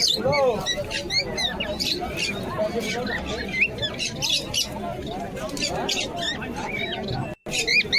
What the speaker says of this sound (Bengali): এই লটকার খাতার মধ্যে একটি জাগমদম কবুতর আছে